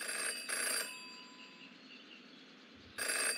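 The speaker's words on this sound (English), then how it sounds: "Jenny had learned never to ignore a ringing phone" A telephone rings in the video game Jenny LeClue: two bursts of electronic bell ringing with a pause between them, fairly faint over a soft steady background.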